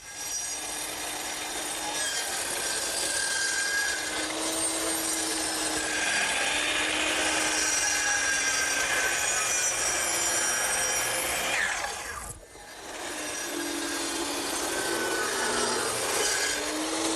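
A hand saw cuts through wood for a colonial fence section in long, steady rasping strokes, close and continuous, with a brief pause near the end before sawing resumes.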